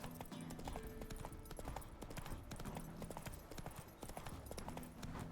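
A horse gallops in The Witcher 3 with quick, rhythmic hoof clip-clops repeating steadily, moderately close and clear, with no talk over it.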